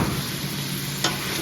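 Eggplant and green onion dropped into a hot pan for a vegetable stew, a soft continuous sizzle with one brief sharp burst near the end, short and moderately quiet, no talking.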